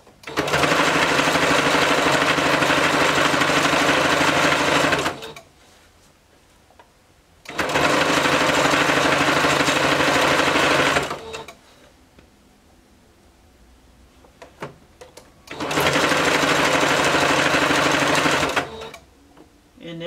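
Three loud bursts of a sewing machine stitching a bodysuit seam, each about four to five seconds long, separated by quieter pauses with faint fabric handling.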